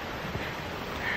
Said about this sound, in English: I can hear the waterfalls